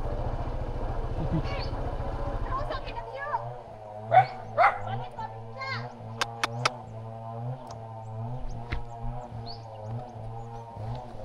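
A dog gives a few short yips and barks amid engine drone and people talking nearby in Antequera, Bohol.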